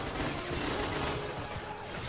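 Dense video-game battle fire between toy army men, a steady wash of fusillade with scattered shots rolling on for the whole stretch, loud and continuous with no clear voice on top.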